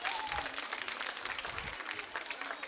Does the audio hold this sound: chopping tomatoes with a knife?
no